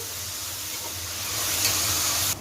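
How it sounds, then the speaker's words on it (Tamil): Onions frying in a pan for jackfruit biryani, a steady close hiss and sizzle that swells slightly near the end before cutting off, with no talk. "இப்போ பாருங்க வெங்காயம் இந்த மாதிரி நல்லா சவக்க வறுத்துக்கோங்க"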